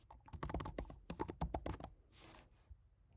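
A computer keyboard clatters in a quick burst of close keystrokes as code is typed, then slows to a few scattered taps near the end, with no voices.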